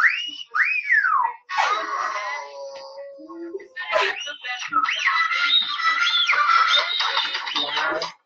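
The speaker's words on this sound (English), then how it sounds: "I'm going to need some wolf whistles." Wolf whistles from a game show audience: several rising-and-falling whistles ring out over crowd cheering and excited voices, loud and close.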